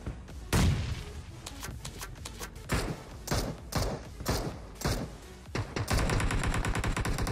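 Gunfire in the shooter PUBG Mobile on the Erangel map: sharp shots and short bursts ring out one after another, some loud and close, others quieter and farther off, with little talk over them.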